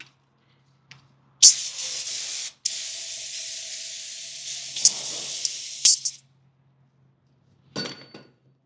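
An aerosol can sprays cleaner onto a removed car oil filter during an oil change on a 2024 Audi A3, in two long hissing bursts followed by a shorter spurt and a few light clinks nearby.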